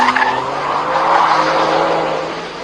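Ferrari 612 Scaglietti with a V12, its tires squealing as the tail slides out, a sustained loud screech mixed with engine drone that swells through the middle and fades slightly at the end.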